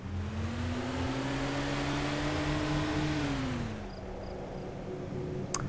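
A car drives in the video game DayZ, its engine holding a steady mid-pitched drone, rising slightly in pitch and then dropping as it eases off, loud and continuous with no talk.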